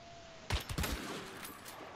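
A quick burst of several close gunshots in the video game Hunt: Showdown, fired in rapid succession and then fading into a lingering echoing tail.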